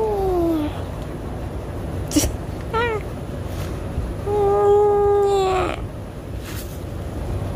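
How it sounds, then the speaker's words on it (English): Several high, thin kitten meows, some short and one drawn out, close by, with faint soft voices and a quiet background hum. "Little kittens."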